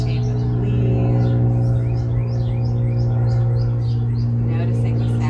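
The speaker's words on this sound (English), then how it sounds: "Noticing the sounds of the birds chirping." Repeated high bird chirps over a steady low hum, fairly faint and spread across the clip.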